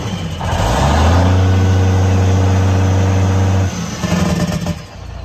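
A 2000 Kenworth W900L truck's engine revs up and holds a loud, steady high-idle drone for a few seconds, then drops back and settles, recorded close.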